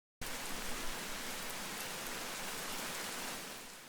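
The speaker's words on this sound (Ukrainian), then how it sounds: "Іде дощ" Steady rain pouring down, a dense hiss of drops on a surface, continuous and fairly close, with no voices.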